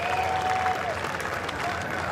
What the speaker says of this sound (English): A round of applause from the faithful here at Camelback Ranch